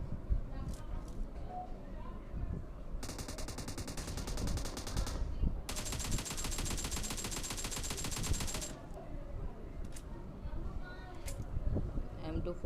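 Sustained automatic gunfire from an M249 and an AK in a mobile shooter game, two long dense bursts over a busy game soundscape with scattered single shots before and after, and a voice talking underneath.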